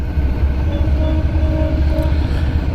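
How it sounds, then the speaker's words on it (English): A train horn sounds in steady drawn-out blasts over the heavy low rumble of a passing train, heard from a 1994 Honda ST1100 motorcycle, fairly loud and continuous throughout. "Yeah, honk your horn so all the idiots won't get on the tracks."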